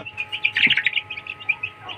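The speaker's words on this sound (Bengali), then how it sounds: "এটা হচ্ছে আমাদের অরিজিনাল ইউরোপিয়ান সিল্কি মুরগির বাচ্চা" European silkie chicks chirp in quick, high, overlapping peeps, close and moderately loud, a continuous chatter of small birds over a faint low hum.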